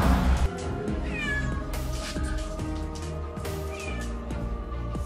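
Repeated meows from a cat stuck in a wheel rise over a loud, steady mechanical din, with occasional higher cries.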